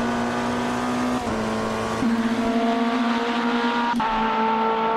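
Race car engine heard from outside in the Automobilista 2 racing game, a steady loud whine with smooth tonal harmonics that shifts pitch at gear changes, continuous throughout with no talking.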